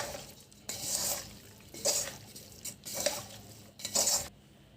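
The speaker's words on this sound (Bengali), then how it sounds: "সব উপকরণ দেওয়ার পরে আমরা সবগুলো মাখিয়ে নিব।" Mutton is mixed with garam masala, salt and spices in a metal pot, giving four loud scraping, clanking strokes of a spoon against the pot at a steady pace, each followed by a softer pause.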